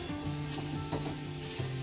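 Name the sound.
onion being sautéed in a pan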